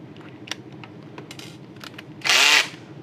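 An electric drill with a drill bit bores into a homemade PCB clamp base. Light handling taps come first, then one loud, close burst of drilling lasting about a third of a second.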